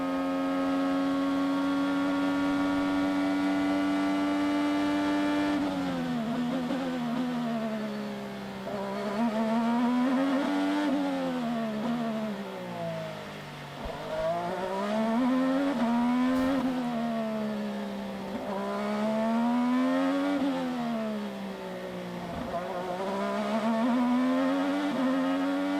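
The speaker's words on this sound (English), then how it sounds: "let's go for a ride with Sebastian Bourdais in the nose cam" Honda-powered IndyCar racing through the streets of Long Beach, heard from the nose: a loud, close engine howling steadily, then repeatedly dropping and climbing in pitch as it brakes, shifts and accelerates through corners.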